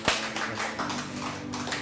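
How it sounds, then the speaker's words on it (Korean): Applause from a church congregation during a Sunday service, steady dense clapping that fills the space after a sharp opening burst, with organ-like sustained tones underneath. "다시 한번 하나님께 영광의 박수 올리겠습니다"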